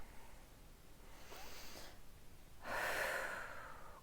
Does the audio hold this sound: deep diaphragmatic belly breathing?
yes